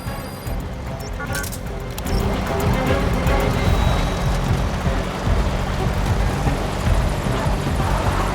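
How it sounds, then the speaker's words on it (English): Helicopter in Metal Gear Solid V: The Phantom Pain settling onto a landing zone, a steady loud rotor and engine roar that swells after the first couple of seconds and holds, with a continuous rain-like wash over it. "This is P-Quad. Have arrived at LZ. Will stand by."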